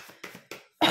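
A woman gives three short, dry coughs, one after another, close to the microphone. A brief louder burst follows at the end.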